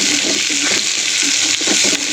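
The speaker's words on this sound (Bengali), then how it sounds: "হালকা একটু তেলে নেড়ে নিয়েছি" Coarsely chopped onions sizzle in a little oil in a pan while being stirred, giving a loud, close, continuous frying hiss with soft scraping from the stirring and no talk.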